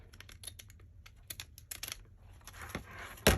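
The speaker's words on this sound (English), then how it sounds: "I'm going to take my scissors and trim it up here" Scissors snip through printed vellum paper in a series of quick, crisp cuts, near and fairly quiet, with a louder rustle of the paper at the end.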